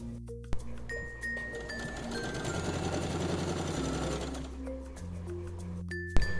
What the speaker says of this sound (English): So I have stitched the waist.